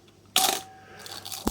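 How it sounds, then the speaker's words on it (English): The film advance lever on a Canon AL-1 35mm SLR is wound with a close, sharp metallic ratchet burst, then a quieter mechanical rasp and a final click as the lever snaps back. "as we advance the film, it's got a very nice"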